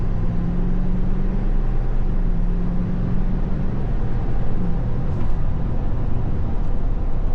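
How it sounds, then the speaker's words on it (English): Lifted 2024 GMC Sierra 3500 Denali pickup accelerating at wide-open throttle, a dense constant engine and road roar heard from inside the cab, loud and unbroken throughout. "So I'm gonna give it wide open throttle here in a second."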